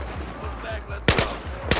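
Battlefield gunfire, two sharp loud bursts of shots cracking out close by after a stretch of rumbling battle ambience.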